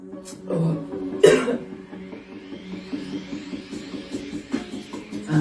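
A person coughs a few times at close range, with a strong burst early on and smaller throaty coughs scattered later over a low steady background hum.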